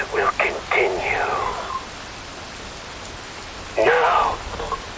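In the video game Metal Gear Rising: Revengeance, rain falls with a steady, hissing patter. A voice talks in short bursts over the rain near the start and again near the end.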